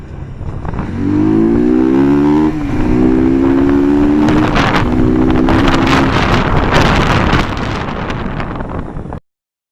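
A Bajaj NS200 BS4 motorcycle fitted with a K&N air filter revs hard past 5000 RPM in repeated rising pulls, loud and close, with a throaty intake roar and wind buffeting before it cuts off.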